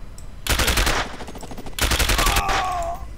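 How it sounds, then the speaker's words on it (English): Sniper and automatic gunfire in the video game SAS Secure Tomorrow, two loud rapid bursts of shots with a brief lull between, the second trailing into a ringing whine. "there's some sort of sniper"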